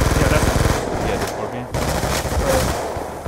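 Scorpion submachine gun firing in Black Ops 2 gun game mode, rapid continuous automatic bursts close and loud, with a short break partway through before firing resumes.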